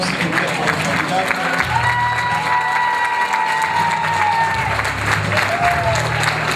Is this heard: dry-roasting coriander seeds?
no